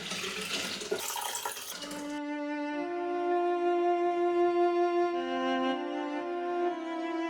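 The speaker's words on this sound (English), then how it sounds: "we're going to transfer our sweet tea into the glass bell jar" Sweet tea for green tea kombucha pours into a 3-litre glass bell jar, a splashy rush at first, then a steady, rising gurgle as the glass fills, close and continuous with no talk.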